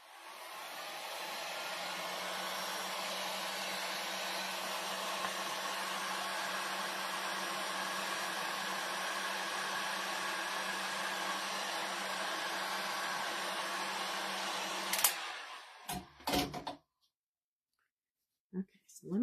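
Hair dryer blowing steadily at close range to dry a craft sign holder, a loud continuous whoosh that runs for about fifteen seconds before cutting off, followed by a few clicks and handling sounds.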